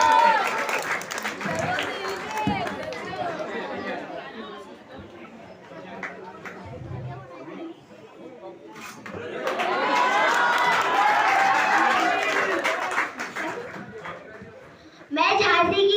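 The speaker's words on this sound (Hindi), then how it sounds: "जोरदार तालियों से स्वागत कीजिए" An audience at an Independence Day event claps and cheers in two loud swells, with crowd chatter and children's voices between them and a voice speaking over parts.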